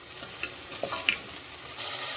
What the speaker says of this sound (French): je fais revenir mes oignons avec une cuillère à soupe d'huile d'olive.